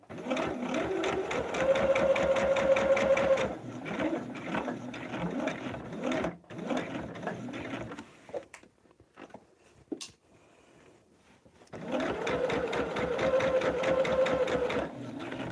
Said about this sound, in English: We're going to sew down that line.